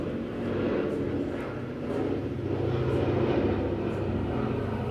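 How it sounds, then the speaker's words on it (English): An airplane passes overhead, a loud broad roaring drone that swells and fades slightly over several seconds, dominating the scene without any talk. "the plane is loud"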